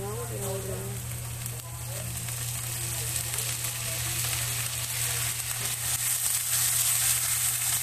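Bitter melon and ground beef sizzle steadily in a hot pan, a loud, continuous close frying hiss with a low hum underneath and no voices.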